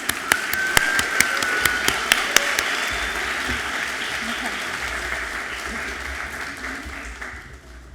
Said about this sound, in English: I just want to give you one more round of applause